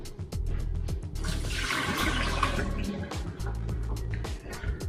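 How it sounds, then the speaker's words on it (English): Boiled potatoes drained in a kitchen, water pouring and splashing steadily into a sink for several seconds, close and fairly loud, with a rushing wash in the middle. "So I've got the potatoes already, so I'm going to drain these off"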